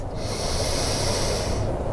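Breathing during a yoga pose: one long, steady, airy exhale lasting about a second and a half, close and fairly loud, with no talking.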